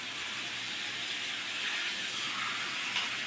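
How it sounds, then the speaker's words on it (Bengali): Mutton sizzling as it sautés in oil with cumin and green chilli paste, a steady broadband hiss holding evenly throughout with no talk. "ভালো করে কষে নেব মাংসটা, ঢাকা দিয়ে দিয়ে কষবো"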